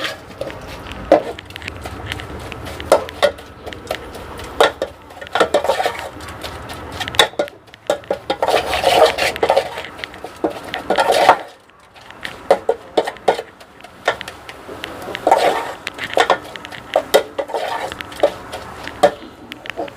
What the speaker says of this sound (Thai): ต่อไปนำเนื้อที่เราสับเมื่อสักครู่นะครับ ใส่ลงไปคั่ว